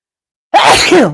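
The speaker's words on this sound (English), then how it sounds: "I'm gonna sneeze and then we'll go back to it" A single loud, close sneeze bursts out after a half-second of silence, a sharp voiced blast that trails off within about two-thirds of a second.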